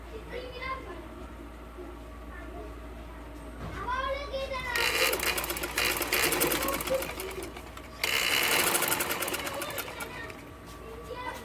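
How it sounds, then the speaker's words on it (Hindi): A sewing machine stitches a ladies' shalwar in fast bursts of needle chatter that start and stop. Children's voices and cooing pigeons can be heard in the background. "ये जो हमने कलियां डाली हैं इनको आगे सिलाई लेके जानी है आपने।"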